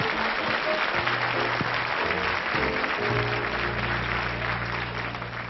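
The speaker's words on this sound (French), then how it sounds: "Sous vos applaudissements." An audience claps steadily, a dense, continuous wash of applause that stays loud throughout, with a faint tone underneath.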